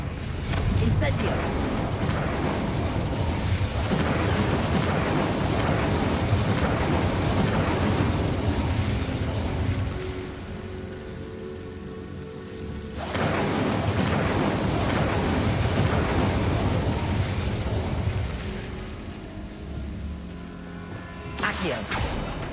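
A fire spell (Incendio) is cast in Hogwarts Legacy, giving loud, dense roaring bursts of flame and magical impact. The noise is sustained and broadband, breaks off briefly midway, then resumes, with game sound effects running throughout.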